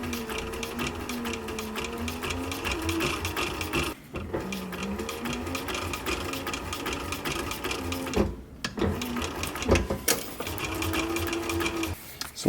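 An electric sewing machine stitching fabric for a military patrol cap, a fast continuous mechanical whir with rhythmic needle clatter, briefly stopping twice then resuming, heard up close.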